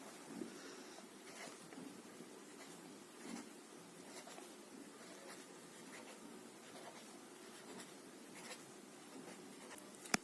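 A pen writes numbers on paper, producing faint, soft scratching strokes in short repeated bursts against a quiet background.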